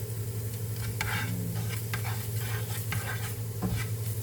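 Stir-frying ingredients with meat in a pan, a continuous close sizzle broken by repeated scraping strokes of a spatula at an even, busy pace.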